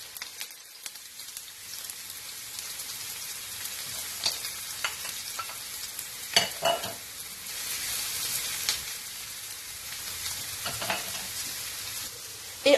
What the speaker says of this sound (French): Donc là, nos poivrons ont bien commencé à griller.